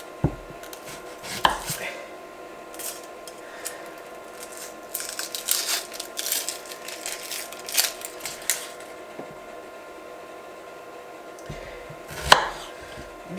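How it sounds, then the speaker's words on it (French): A knife chops an onion on a cutting board in a home kitchen, a run of crisp, close taps in uneven bursts that cluster thickly in the middle and end with a final louder chop. "je vais ajouter un oignon que je vais émincer"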